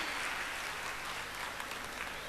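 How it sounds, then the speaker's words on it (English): Steady, dense applause fills a school hall at a kindergarten annual cultural fest as parents clap together for the young participants, sustained and even throughout with no voices standing out. "I think all the participants need a big round of applause"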